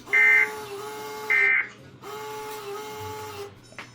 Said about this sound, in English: I should have turned the printer off.